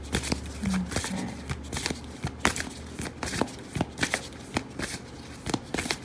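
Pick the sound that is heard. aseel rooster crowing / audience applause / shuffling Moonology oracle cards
shuffling Moonology oracle cards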